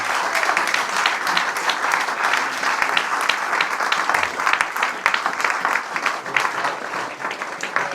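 A conference audience gives a loud, sustained round of applause, dense overlapping claps filling the room steadily from start to finish, with a few voices faintly mixed in.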